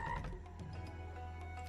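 A frog croak sound effect from the Tai the Toad online casino slot game comes as a low, rough, continuous rumble over faint electronic game tones.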